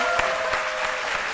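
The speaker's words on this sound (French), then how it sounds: "qu'on applaudit très fort" Steady applause from a small television studio audience fills the moment, even clapping without cheers or talking.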